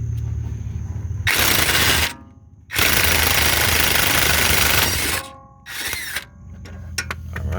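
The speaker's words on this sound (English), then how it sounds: "I'm gonna go ahead and use the impact first, and hopefully this gets it off." An impact wrench hammers loudly on an 18mm nut on the strut of a 2011 BMW 535i 3.0L, firing in three close bursts, with the last one short, and no talking.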